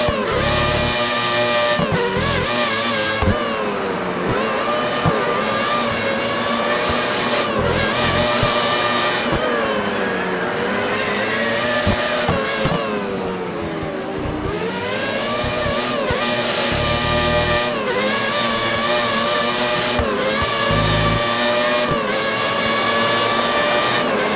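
A Formula 1 car engine in the F1 2013 racing game shifts down and revs through repeated gear changes while braking hard into a corner at the Spanish circuit, loud and continuous with no talk.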